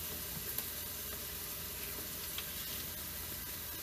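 Red pepper sautés in a pan for vegan palak paneer, giving a dense, steady sizzle and hiss throughout with faint stirring ticks, close and unbroken, with no talking.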